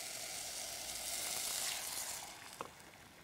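Beef added to a hot pot sizzles loudly for Vietnamese spicy beef noodle soup, a steady hissing fry that swells, then eases off, with a sharp clink of a utensil near the end.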